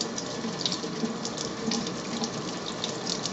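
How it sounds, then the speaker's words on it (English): Tap water runs steadily into a sink while crabapples, some gathered off the ground, are washed beneath it: a close, continuous splashing rush with small bubbling bursts and no talking. "So, you should wash your apples, especially if you found them on the ground."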